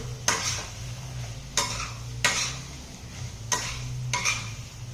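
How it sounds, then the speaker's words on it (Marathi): Marinated soya chunks being stirred into a pan, with five or six distinct scrapes and clinks of a spoon against metal at irregular intervals over a faint low sizzle, close up and without talk. "हे जे सोया घेतलेलं आहे मॅरिनेट करून ठेवलेलं होतं ते याच्यामध्ये घालायचं आहे. मला मिक्स करून घ्यायचं आहे."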